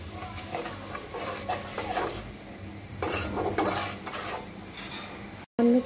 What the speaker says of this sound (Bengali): খুব ভালো করে কষিয়ে নেব।